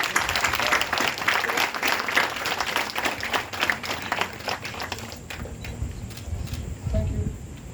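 Audience applause at an award ceremony, a full hall clapping steadily, then thinning to scattered claps with a faint murmur near the end.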